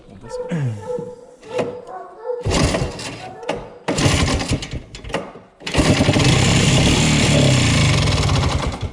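A few sputtering cranks and bursts of talk give way to an old Rampage snowmobile engine catching and then running loudly and roughly at a steady drone.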